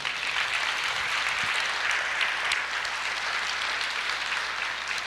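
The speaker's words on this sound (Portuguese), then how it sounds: "Você pode aplaudir o Senhor?" A church congregation applauds during a sermon, a steady dense wash of clapping that fills the whole stretch at an even level.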